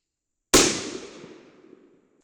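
Single rifle shot from a 22 Nosler rifle fired at a range while zeroing at 100, a sharp loud crack followed by a decaying outdoor echo lasting over a second, with no talk.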